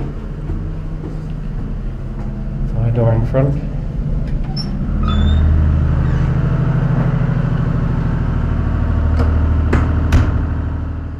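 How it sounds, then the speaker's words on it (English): A heavy lighthouse engine drones and rumbles continuously nearby in the Wolf Rock lighthouse, a steady low mechanical hum with a few faint clanks over it. "above us is the engines, one running, one on standby"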